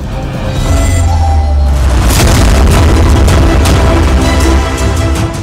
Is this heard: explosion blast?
yes